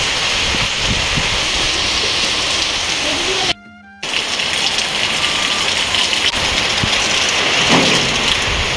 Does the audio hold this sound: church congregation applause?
no